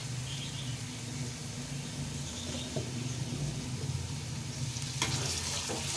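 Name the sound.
ginger garlic paste frying with onions in a pan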